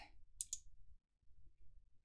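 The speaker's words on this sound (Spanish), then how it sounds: "Finalmente, clic al botón Aceptar." Two sharp, quiet mouse clicks come close together in a near-silent room as the OK button is pressed in Excel 365.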